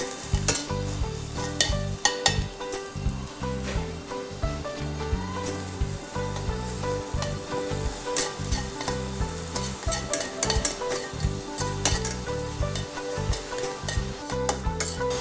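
Walnuts and almonds fry in a pan with a continuous close crackling sizzle, broken by frequent scraping and clattering as they are stirred, with no talking.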